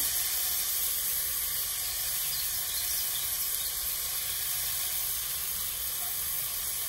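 Grated zucchini sizzling in a hot pan, a loud, steady, dense hiss that holds unbroken throughout with no talk over it.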